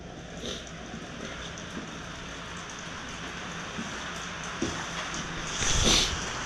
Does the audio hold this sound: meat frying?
no